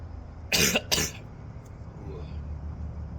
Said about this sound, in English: Coughing like a bitch.